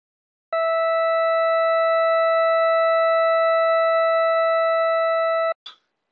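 A steady electronic censor beep, a pure single tone with faint overtones, holds loud and unbroken for about five seconds, then cuts off with a short blip just after.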